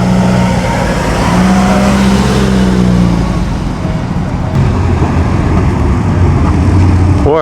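An Alfa Romeo car with a non-eight-cylinder engine driving past at the Pebble Beach Concours, a loud, close engine rumble that stays steady against outdoor crowd noise throughout.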